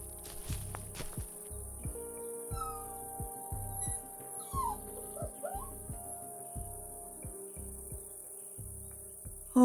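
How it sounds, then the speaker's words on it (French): Small lost puppy whimpering with faint high whines in a forest setting, over rhythmic footsteps and a steady cricket chirp, with no talk. "C'est un petit chien. Un chiot est perdu."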